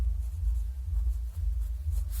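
Hand-writing an equation, likely pen or marker on a surface, heard as soft continuous scratchy strokes with faint bursts, steady and close, over a low background hum with no talking.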